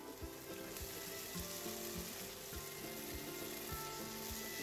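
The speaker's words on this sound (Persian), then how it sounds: "هم میزنیم تا آب گوجه ها کاملا کشیده شه" Tomatoes sizzle steadily in a frying pan while a spoon stirs through them, scraping in a regular rhythm.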